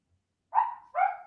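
A dog barks twice in quick succession, two short, fairly clear woofs set back from the microphone against an otherwise quiet background.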